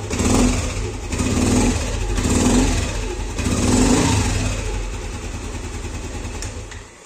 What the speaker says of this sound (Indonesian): Pada saat gas ditarik dan diturunkan, dia nggak ada suara ngoprok lagi.